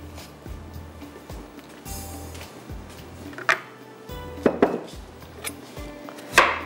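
An onion sliced with a knife on a board while garlic and ginger heat in oil nearby: irregular knocks and cuts with a few louder clacks, plus background kitchen clatter.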